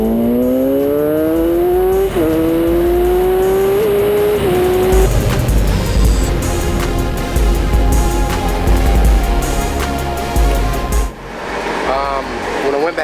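Kawasaki ZX-10R sport motorcycle on a drag strip run, engine screaming high and rising through quick gear changes before a rushing roar as it tears off, loud and close, with some talk.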